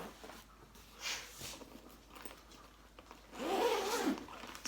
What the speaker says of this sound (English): it has this zipper, it opens in the front.